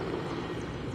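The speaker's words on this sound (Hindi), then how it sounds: "M17 जो है हेलीकॉप्टर वो लगातार चक्कर काट रहा है" Mi-17 helicopter circling overhead during an NSG and ATS counter-terror mock drill at a state legislature building, a steady rotor and engine drone held at even loudness throughout.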